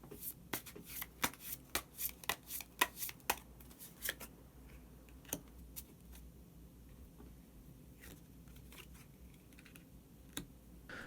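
Tarot cards being shuffled and drawn, a dense run of crisp riffling snaps and slaps for several seconds, then sparser single card flicks and taps close by, with no talking.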